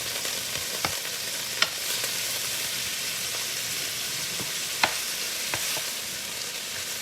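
Beef and broccoli sizzle in a frying pan while being stirred, a steady, moderate hiss broken by occasional sharp clacks and scrapes of a utensil against the pan.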